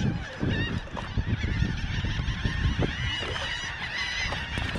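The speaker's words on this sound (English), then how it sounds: "look at all these seagulls." Seagulls squawking and fighting over something near an island on the water, a dense chorus of harsh, honking calls overlapping continuously at close range.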